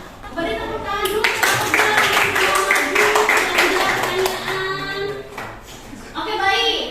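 A classroom of students claps together, brisk clapping that rises and settles while children's voices and chatter carry underneath.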